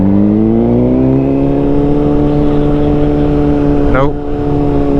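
A Honda CBR600RR engine hums steadily while riding through city streets, a loud, close, even drone with a brief dip and rising pitch sweep near the end.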